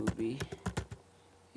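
Quick keystrokes on a computer keyboard, several close clicks in a short burst that then stops, with a voice starting again at the end.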